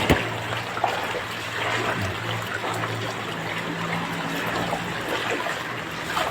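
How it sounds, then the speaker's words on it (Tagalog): Floodwater runs steadily past a street drain, a continuous broad rushing trickle at close range with a low steady hum beneath it and no talk. "Talagang baha."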